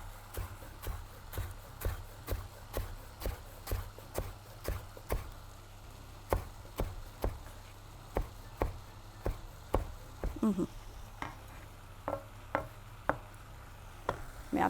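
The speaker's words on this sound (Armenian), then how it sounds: "կարող ենք մի թեթև մեր համեմից կտրատել" Coriander being chopped with a knife on a board for pork tacos, a steady series of sharp close knocks at a brisk, slightly uneven rhythm, with a faint low hum underneath.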